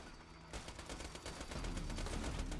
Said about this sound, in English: It's a really nice SMG for Zero in general.